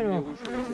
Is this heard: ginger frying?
no